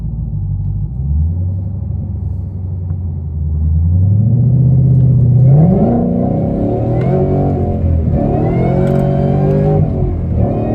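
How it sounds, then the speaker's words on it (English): A 2013 Roush Stage 3 car with aftermarket headers rumbles at low idle, then climbs steadily in pitch at wide open throttle, the roar growing louder and rising through gear changes. "getting onto a wide open throttle pull on it and see how loud that is"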